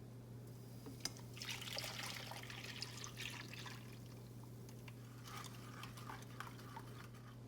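Pomegranate juice is strained, a faint liquid trickle and dribble running for several seconds over a low steady hum, with no voices.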